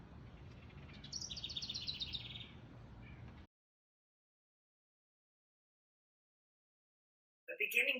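Baby wren nestlings inside a birdhouse give a rapid run of thin, high peeps over steady background noise, then everything cuts to silence before a brief burst of chirping returns at the end.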